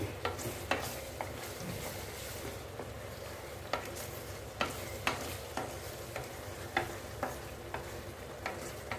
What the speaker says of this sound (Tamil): உப்பு சேர்த்து கலக்கி கொடுக்குறேன்